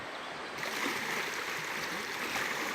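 A stream flows past a stand of bamboo in rural France, heard as a steady, broadband rush of running water, close and continuous, with no voices.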